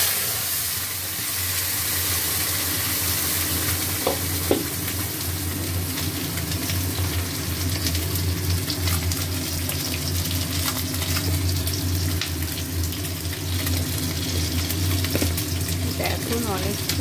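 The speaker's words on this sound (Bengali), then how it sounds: "এখন অনেকক্ষণ ভালো করে কষা হবে।" A ginger, cumin, garlic, coriander and onion spice paste fries in a pan, giving a continuous close hiss and sizzle with occasional spatula clinks.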